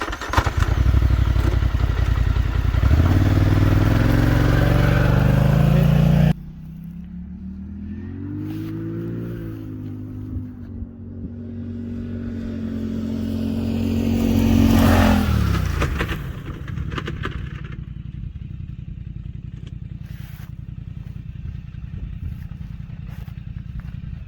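A Polaris UTV on Kenda Bear Claw HTR tires running a braking test on thawing ground: a loud, close engine roar that cuts off abruptly, then a lower idle with a rising rev and a steady running drone.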